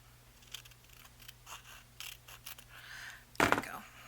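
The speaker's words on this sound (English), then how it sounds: "I'll go ahead and trim this piece off" Scissors trim a piece of paper for a handmade envelope journal, giving a few faint snips and rustles before one louder, close cut near the end, over a steady low hum.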